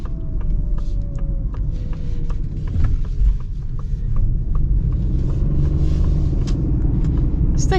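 Inside a 2025 Ford Bronco Sport Outer Banks with an 8-speed transmission, a steady low engine and road rumble drones on as the vehicle drives, with faint ticks and cabin noise over it.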